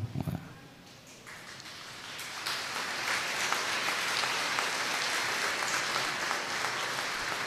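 Applause in a church during a Holy Thursday Mass, broad steady clapping from a congregation that swells after a brief pause and holds evenly to the end.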